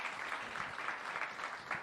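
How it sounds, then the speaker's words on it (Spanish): An audience applauds a speaker at a methodology presentation in Barcelona, a steady broadband patter of many hands clapping together for a short moment, fairly faint and with no talk over it. "Un aplauso para Carmen."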